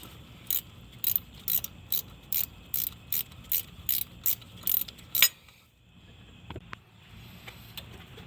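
Roughly a dozen quick, evenly spaced ratchet clicks while a lower starter bolt on a 2014-2016 Kia Soul is snugged, close and crisp, followed by a pause and a few faint metallic taps.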